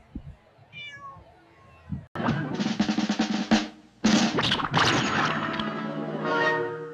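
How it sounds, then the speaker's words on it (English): A kitten meows repeatedly in loud, close bursts, its high cries running over one another after a quieter opening, within an AI-generated scene. "What a cute kitten!"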